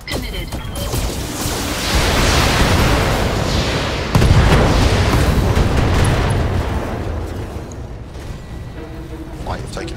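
Heavy mech weapons fire in the Battletech video game, a sustained roar of blasts and crashing impacts that swells around the middle, with a fresh loud burst partway through before tapering off.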